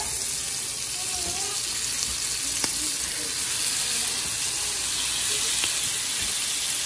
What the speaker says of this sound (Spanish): En un comal vamos a poner aceite o en una cacerolita para dorar los camarones